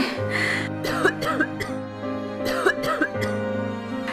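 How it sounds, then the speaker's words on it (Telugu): A person with a severe cough gives several harsh, close coughs and throat-clearing sounds mixed with a strained, whimpering voice in a staged skit. "విపరీతమైన దగ్గుతో బాధపడుతున్నానమ్మా"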